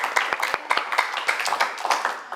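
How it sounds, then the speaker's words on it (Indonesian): An audience claps in a sharp, irregular burst of applause at an Indonesian comedy roast show, the hand claps close and fairly loud throughout, with no talk over them. "boleh minta tepuk tangannya?"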